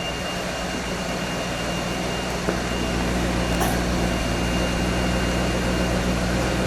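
A 1978 Dodge Magnum XE T-top's engine idles steadily and smoothly at close range, a continuous low hum with no breaks or revs.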